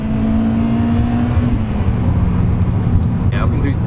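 Championship White Honda Civic Type R accelerating hard from 20 to 70 mph, a strong interior engine roar climbing through the gears with a brief tire chirp, while people talk over it.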